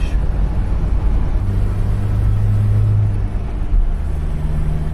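A pickup truck in four-wheel drive low range cruising along Highway 116, heard from inside the cab as a loud, steady low engine rumble and road drone with a brief engine hum swelling in the middle.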